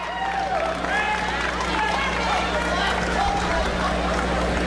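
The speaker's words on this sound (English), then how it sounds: "the crowd's into this" A crowd at a wrestling finals match cheers steadily throughout, a dense roar of voices and clapping, with a commentator talking over it.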